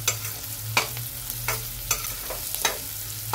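Onions sauté in a pan, the spatula scraping in regular sweeps about every half second over a low steady sizzle and a faint background hum. No voices.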